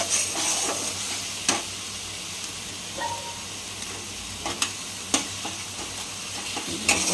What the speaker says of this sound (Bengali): তেজপাতা দিয়ে দিল দিয়ে মশলাটা এবার একটু কষিয়ে নেবে ভালো করে